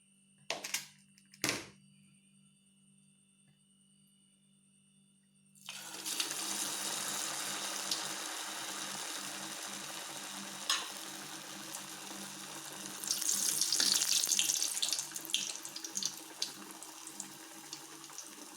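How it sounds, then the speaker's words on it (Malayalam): Bread snack dropped into hot oil, a few soft knocks giving way to a sudden, loud, continuous sizzle of frying that swells stronger midway, heard close up with no talking. "ഇനി നമുക്ക് ഓയിലേക്ക് ഇട്ടിട്ട് പൊരിച്ചെടുക്കാം."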